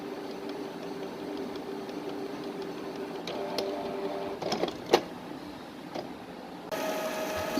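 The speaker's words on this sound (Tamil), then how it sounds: "இப்பொழுது பிரிண்டர் இங்கை ஃபில் பண்ண ஆரம்பிக்கிறது" A Canon G3010 inkjet printer charges its ink tubes, giving off a steady low mechanical whir with scattered clicks and small knocks, then a shift to a brighter, busier motor sound toward the end. The sound is close and moderate, with no voices.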